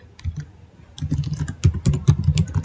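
Keyboard typing on a computer while writing a question to a bank's support, with a quiet sparse stretch of key clicks and then a dense run of rapid, close-up clicking.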